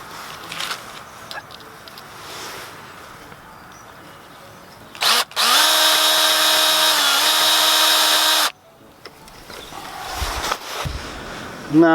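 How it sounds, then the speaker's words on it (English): A power drill drives a small screw into wood for an allotment raised bed, giving one close, loud, steady whir of about three seconds. Quieter handling noises and faint rustling come before and after it. "I'm just going to screw the wood together with these small screws"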